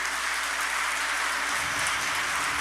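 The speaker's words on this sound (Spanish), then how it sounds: "Un aplauso al Señor," Broad, steady applause fills a church conference hall, a dense even wash of many hands clapping with no distinct individual claps.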